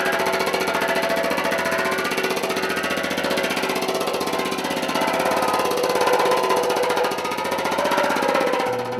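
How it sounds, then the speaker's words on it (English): An air hammer beats a steel drum barrel, sinking the flat end into a bowl for a steel pan, producing a loud, continuous rapid pounding that runs steadily throughout with no talk. "I learned of these air hammers that we now use inside."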